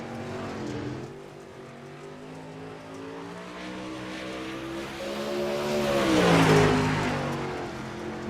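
A super late model race car runs a qualifying lap at Lanier, its engine note droning steadily and then swelling louder as it passes close by, with the harmonic pitch rising and falling before fading again.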